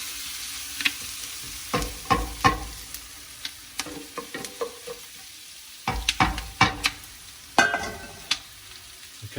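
Goulash ingredients fry in a pot over high heat, a soft sizzle beneath irregular clacks and scrapes of a spoon stirring against the metal, in short clusters with brief pauses.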